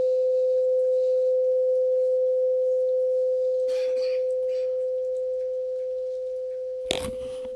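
A steady pure sine tone sounds through a tube closed at one end in a standing-wave demonstration, holding one pitch throughout, with a few faint handling noises and a short clatter near the end.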